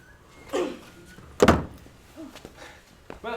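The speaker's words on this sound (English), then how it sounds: "Help me pull this door shut." An old door is pulled shut in a dark, haunted house, ending in one heavy thunk with a short scraping rush, set among rustling movement and faint voices before and after.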